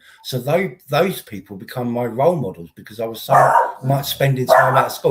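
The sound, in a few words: dog barking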